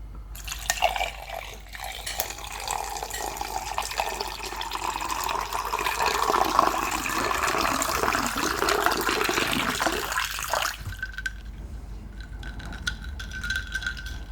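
Water pours steadily into a glass for about ten seconds, a continuous splashing rush that rises in pitch as the glass fills, then stops abruptly.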